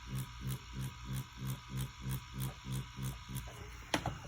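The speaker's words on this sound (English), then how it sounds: "Like this is kind of what whipping sounds like." Tattoo machine buzzing steadily while doing whip shading, with the tone swelling and dipping in a regular rhythm of about two pulses per second as the needle sweeps in repeated flicks, close and fairly quiet, ending with a brief louder knock.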